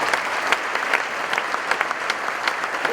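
A dense, steady round of applause from a large audience at the Onondaga County State of the County Address, honoring the Le Moyne College family, with many hands clapping evenly throughout.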